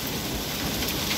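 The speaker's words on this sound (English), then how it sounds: "hail's coming down" Rain pours steadily during a thunderstorm, with hail coming down, forming a dense, continuous close hiss and patter with low rumbling underneath.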